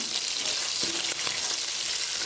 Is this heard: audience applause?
no